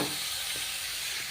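Grated beetroot tipped into hot oil for a South Indian poriyal sends up a loud, dense sizzle, a continuous bright hiss that fills the whole moment with a few faint knocks beneath.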